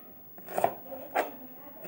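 A knife chops through okra on a board, trimming off heads and tails: two or three sharp, close cuts spaced apart in a quiet setting.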